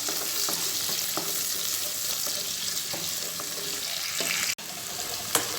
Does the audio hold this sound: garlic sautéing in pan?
yes